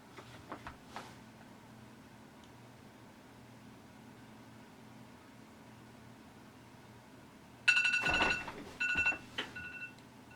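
An iPhone alarm sounds: a bright electronic tone beeps loudly in a short burst, then repeats a second later after a quiet room with faint earlier taps.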